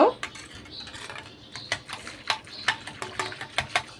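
A whisk or spoon clinks against a bowl while milk is mixed into beaten eggs and sugar for caramel pudding, a close, regular metallic tapping that quickens toward the end.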